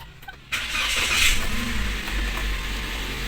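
A Toyota Rush with automatic transmission, parked, fires up by push-button start after a short quiet pause, then settles into a steady, close engine idle with no talking.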